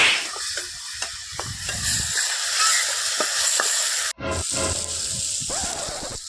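Mottu gravy is stirred in a frying pan, with close spoon scrapes and taps over a constant hot sizzle and one abrupt break near the end.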